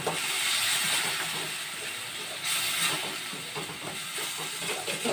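Chilli sauce mixture sautéing in a hot pan during preparation of an omelette rice breakfast from leftover rice, giving a steady loud hiss and sizzle throughout with faint scraping underneath.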